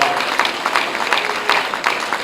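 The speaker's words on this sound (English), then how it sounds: "warrants applause" Loud, continuous applause from an audience at an education association kick-off event, dense clapping filling the room without pause.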